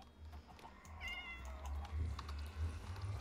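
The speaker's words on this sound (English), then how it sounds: "Who just meowed at me?" A cat meows in a survival-style video game, one clear rising meow over a low steady background hum and faint key clicks, no talking.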